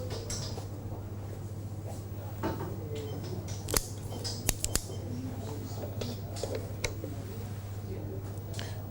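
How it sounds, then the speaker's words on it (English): A guillotine cutter snips the end of a cigar indoors: a few quick, crisp clicks and snaps against a steady low hum, with someone talking quietly nearby. "I'm going to use a guillotine cut for this."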